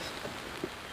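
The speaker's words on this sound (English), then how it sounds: "A little bit of rain falling here" Light rain falls outdoors in Baltimore, a faint, even patter with a couple of slightly louder drops in a very short stretch.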